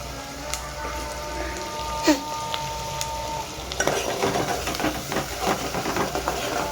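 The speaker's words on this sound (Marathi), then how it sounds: "कांदा लसून जरा व्यवस्थित जरा शिजली करा तर खूप छान होते आमची बघा कांदा कसा लाल होत चाललाय" Onion and garlic fry in a pan for a Maharashtrian drumstick amti, giving a steady sizzle broken by sharp clinks and scrapes of stirring that grow busier partway through.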